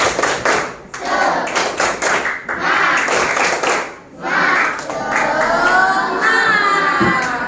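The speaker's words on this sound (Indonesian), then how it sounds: "Tepuk semangat" A children's class performs the 'tepuk semangat' clap chant, with patterned bursts of sharp, close claps in quick rhythmic groups broken by short pauses, mixed with the children's chanting voices.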